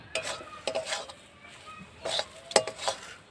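A spoon scrapes and clinks against a pan as powdered milk is stirred into ghee, in several short bursts with quiet gaps between them, and a faint sizzle runs underneath.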